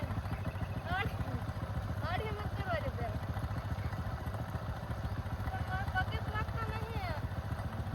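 A motorcycle engine idles steadily after being kick-started, a constant low putter running throughout, while people talk and call out over it.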